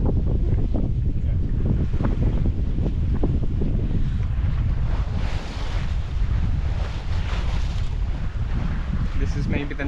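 A sailboat out on open water on passage toward Italy, with strong wind buffeting the microphone and a continuous rush of waves against the hull, loud and close throughout.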